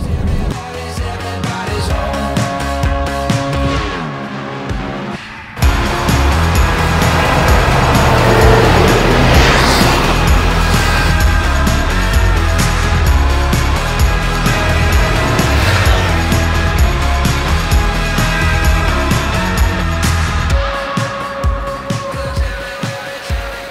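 Diesel Toyota Hilux pickup running hard on a rally course, a loud continuous engine drone with gear changes and strain near the top of its revs, rising after a brief lull and carrying on steadily to the end.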